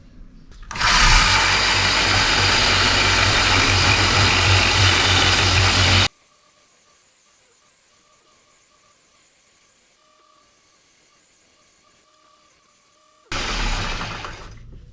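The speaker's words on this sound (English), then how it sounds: "I am going to put this hammer on the belt sander" A loud, harsh grinding hiss from a belt sander grinding down a hammer head's edge runs steadily for several seconds, stops into near silence, then starts again briefly at the end.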